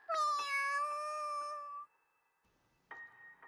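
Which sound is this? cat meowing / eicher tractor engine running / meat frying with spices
cat meowing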